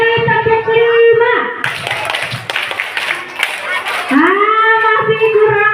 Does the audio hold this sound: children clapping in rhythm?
yes